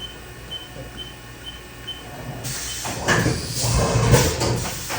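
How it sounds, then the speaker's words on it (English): Haas VF2SS CNC vertical mill from 2015 performing a fast automatic tool change, heard as a quiet machine hum that gives way to a loud burst of clunks, whirs and mechanical rattling over the last two seconds. "Oh yeah, you wanted to see a tool change."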